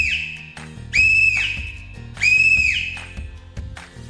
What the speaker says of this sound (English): a whistle will let responders know you need help and lead them to you